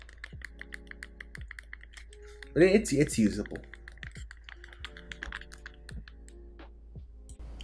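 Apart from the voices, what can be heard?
typing on small non-mechanical Bluetooth keyboard of 3D printed cyberdeck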